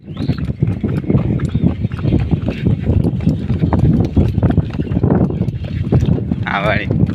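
A mare walks with a steady, close clip-clop of hooves that continues throughout, while a person talks over it.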